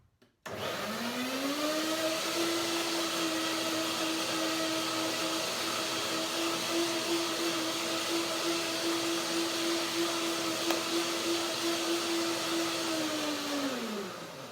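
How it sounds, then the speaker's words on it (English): A kitchen blender whirs through banana, lemon and cashew yogurt, starting abruptly and holding a loud, steady motor whine for about fourteen seconds before winding down. "Let's see blender dance."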